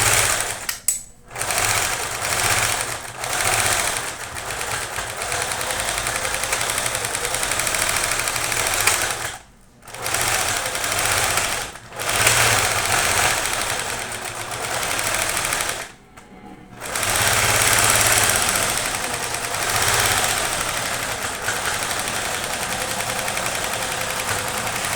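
Sewing machine stitching a zigzag seam to finish the edges of a fabric baby teether toy: a steady, loud motor-and-needle whir in long runs, broken by a few brief stops, with no talk.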